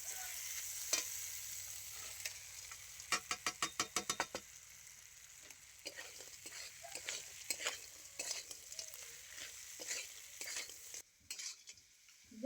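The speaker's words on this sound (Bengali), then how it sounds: "এবার আমি দিয়ে দিচ্ছি ভেজে রাখা মাছের মাথা।" Fried catla fish head and potatoes stirred in spice paste in a pan, sizzling steadily up close, with a quick run of rhythmic scraping strokes early on and softer stirring scrapes after.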